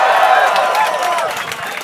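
A convention audience at a PAX preview show for a card game cheers and whoops loudly, a dense roar of voices from a large indoor crowd that fades slightly toward the end.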